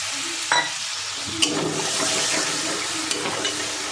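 Chopped tomato and a splash of water added to frying spices in a pan, a loud hissing sizzle that swells and holds steady with a few knocks of a utensil, no voices.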